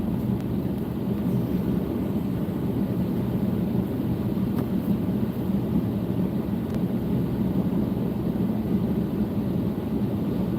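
A Chinook helicopter passing overhead above pine forest near a wildfire, a steady loud low rumble of engine and rotor noise that holds throughout.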